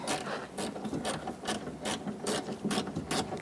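A 10mm socket ratchet backs out a bolt during front exterior door handle replacement on a 2002-2006 Honda CR-V, giving a steady run of close, crisp ratcheting clicks in regular bursts.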